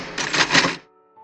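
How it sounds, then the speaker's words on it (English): A short burst of mechanical typewriter clatter from the typing scene in The Shining, a close flurry of keystrokes lasting under a second, followed by a faint ringing tone. "Jack makes his anger feel more alive by physically tapping the typewriter to sample the sound"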